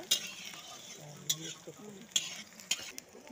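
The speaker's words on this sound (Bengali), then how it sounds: "পেঁয়াজ লাড়াচাড়া চলতেছে," Onions stirred while frying in a pan, a soft continuous sizzle broken by a few sharp spoon clinks and scrapes at irregular intervals, close by.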